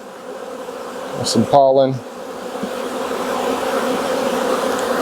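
Honeybees buzzing around hive frames during a split with queen cells, a steady close hum of many bees throughout, with a person speaking briefly over it.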